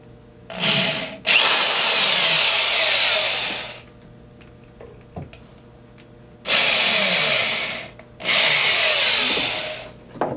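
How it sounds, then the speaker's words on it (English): A power drill whirs loudly in four separate bursts, each several seconds long, drilling holes for roof rack rod clips, with quiet pauses and small clicks between them. "I'm just going to drill them through."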